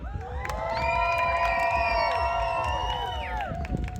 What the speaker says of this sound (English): the louder you cheer for your athlete, the faster that little piggy is going to run